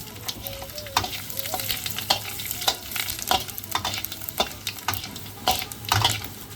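Bay leaves, panch phoron and dry chillies crackle in hot oil used for a pui shak and hilsa-head chorchori, a constant sizzle with sharp spitting pops and occasional utensil knocks, close and with no voices.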